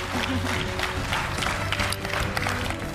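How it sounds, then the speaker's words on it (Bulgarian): Steady applause from a television game show studio audience, dense and sustained clapping throughout with a faint hum underneath. "Аплодисменти за Ивайло и неговата цветна биография"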